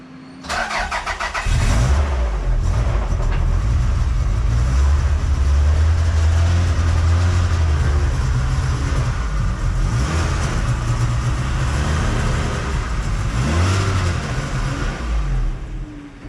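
A 1991 Toyota Celica GT starting up and pulling out of a garage: a short crank catches after about a second, then the engine runs steadily and close, rising and falling gently as the car moves off.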